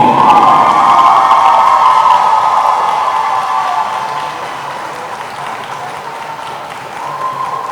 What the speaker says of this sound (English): Let's give a big applause from the Canada team.